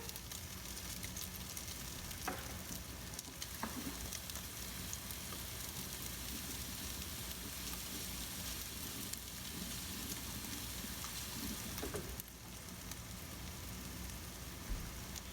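Salmon patties frying in a pan give off a steady, dense sizzle and crackle that stays even from start to finish, with a few brief pops and no voices.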